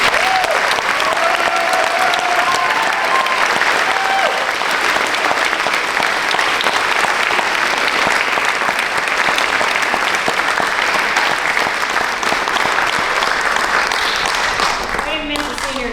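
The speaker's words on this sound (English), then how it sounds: "Big round of applause." An audience at a school band spring concert claps for the seniors in long, steady, dense applause that holds loud for about sixteen seconds, with voices murmuring and cheering underneath.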